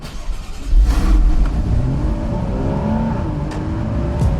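A car engine revs hard and close, then settles into a sustained strong drone with rising engine tones, with no voices.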